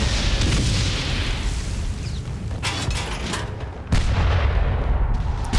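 Heavy booming blasts of cannon fire in the game Valiant Hearts: The Great War roll out over a dense rumbling background, with a couple of sharp, loud reports standing out near the end.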